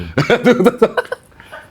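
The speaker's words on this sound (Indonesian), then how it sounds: "Gue lagi batuk." A short burst of several quick, close coughs, trailing off into a softer breath.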